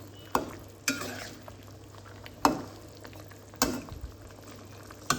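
Pork rica babi being stirred in a pan, with a quiet steady sizzle under five or six sharp scraping clacks of a utensil against the pan at irregular intervals.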